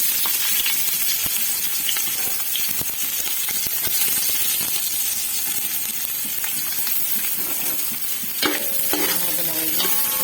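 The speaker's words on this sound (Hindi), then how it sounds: "यहाँ पे मैंने रख दिया था घी ये अलग, और इस पर मैं यहाँ पे जो प्याज काटा था वो डालूंगी।" Chopped onion frying in hot ghee while biryani is being made, giving a continuous dense sizzle with scattered stirring clicks and scrapes, close and steady, with a brief metallic clatter near the end.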